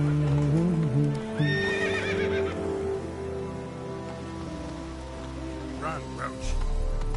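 Horse neighing and whinnying with clip-clop hoofbeats in The Witcher 3 video game, a loud whinny up front followed by galloping hooves and a light patter of rain in the background.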